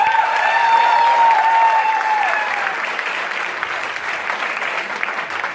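A large crowd of about 400 leaders at a Lonavala training event bursts into loud, sustained applause that holds for several seconds. A faint whistle-like tone rises over it early on.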